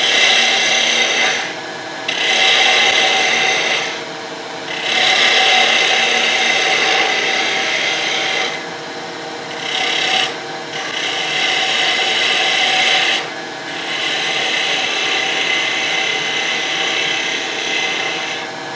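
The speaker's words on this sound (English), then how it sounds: "Now we could use the bowl gouge and we'll fare this handle down to that smaller diameter." A bowl gouge cuts a spinning wooden gavel handle on a lathe, a loud steady scraping rasp broken by several brief pauses as the tool lifts off the wood, with no talking.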